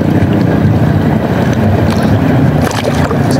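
A small motorboat engine drones steadily up close, with wind buffeting and water rushing throughout.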